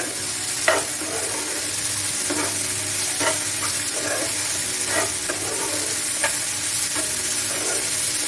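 Food frying in a pan on a home stove gives a steady, close sizzle for the whole stretch, with a few short scrapes and stirs at intervals. No one speaks.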